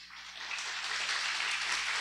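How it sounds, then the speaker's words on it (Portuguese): A crowd at a church service claps steadily, a dense wash of hands sounding at a moderate, even level throughout with no break. "Aplauda bem forte ao Senhor."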